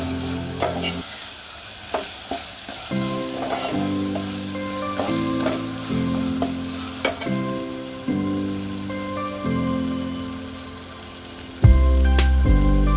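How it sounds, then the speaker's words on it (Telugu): Ginger garlic paste fries in a pan for chicken biryani, giving a continuous sizzle broken by repeated scraping strokes of stirring, close up with no talking. "పచ్చివాసన పోయే వరకు అల్లం వెల్లుల్లి పేస్ట్ వేయించుకోవాలండి ఇలాగా"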